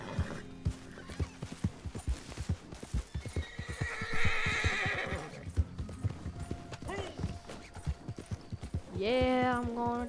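Video game horse hooves clip-clop in a steady rapid rhythm, joined by a loud rising whinny near the end, with background game sounds throughout.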